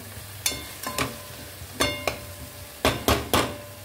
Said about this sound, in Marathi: आलं लसूण, सगळे मसाले, खडे मसाले, पावडर मसाले, हे मस्त असं चांगलं परतून घ्यायचं।